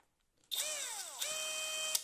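A Pro-Craft PA 18Pro BL cordless brushless screwdriver running at first speed, its motor whine spinning up sharply, dipping, then holding a steady, close, high-pitched hum on its own for about a second and a half.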